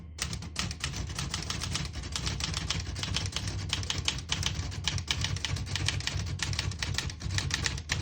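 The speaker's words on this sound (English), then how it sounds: "I'll type a sentence on the next line." Typing a sentence on an Olivetti Lettera 32 portable typewriter, in excellent condition, produces a rapid, steady stream of crisp key strikes with even rhythm, close and clear, and no voices.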